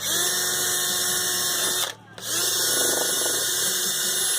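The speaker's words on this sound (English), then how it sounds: "Don't put a lot on your polisher. I'm going to use a cordless for the first one." Cordless polisher whirring steadily on aluminum motorcycle parts, a loud continuous high motor whine that briefly drops out once before resuming, with no talk.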